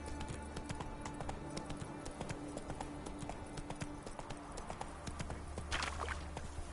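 Roach the horse gallops in The Witcher 3, a fast, steady clip-clop of hooves over a low ambient rumble, with a brief rustle near the end.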